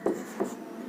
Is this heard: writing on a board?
yes